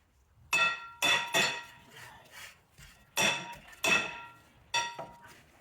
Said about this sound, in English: I got a hammer. We're going to tap around the outside here, and then hit it from the back to hopefully pop it out.